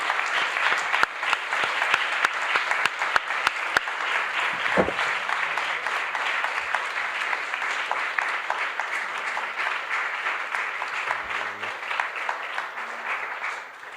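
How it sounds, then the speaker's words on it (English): Sustained audience applause for speakers at a conference on the European Union, a dense steady wash of clapping lasting throughout, with a few sharper claps near the start and brief low murmurs underneath. "Maybe we can applaud them and then."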